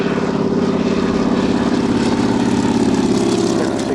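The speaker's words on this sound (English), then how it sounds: "the 56 aeroplane, Stephen Death, the crop duster from Albury, in the Royal New Zealand Air Forces." A crop duster propeller aeroplane at an airshow at Tyabb, its engine droning loud and steady with a pulsing propeller beat, heard close and without talk.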